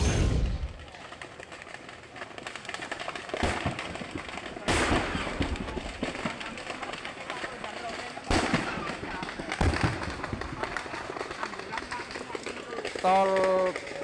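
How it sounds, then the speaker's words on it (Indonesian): Several loud, sharp blasts boom out at irregular intervals over a constant roaring rumble as a military truck carrying ammunition burns on the Gempol-Pandaan toll road, with no voices. "Kebakaran hebat disertai beberapa kali ledakan terdengar dari sebuah truk"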